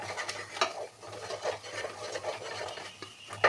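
A spoon scrapes and rubs through a thick spiced masala mixture in a pan, with repeated rhythmic strokes over a faint sizzle, heard close and without voices.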